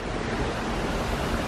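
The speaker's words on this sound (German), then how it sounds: "Der Fluss ist richtig hoch. Durch das Unwetter." Swollen river running high after a storm, a steady full-band rush of water with no pauses, loud and close throughout.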